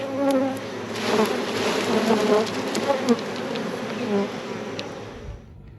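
Honey bees swarm around frames pulled from a hive during a honey harvest, a dense, continuous buzz close by with individual bees droning past, trailing off abruptly at the end.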